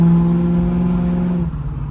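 A 1972 Ford Mustang Mach 1 engine roars with a strong, close drone, then drops off abruptly into a lower rumble after about a second and a half.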